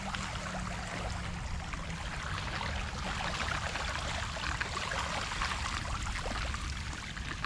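Steady rushing and gurgling of flowing water from the Ślęza river flooding into Grabiszyński Park in Wrocław, continuous and fairly close, with no voices.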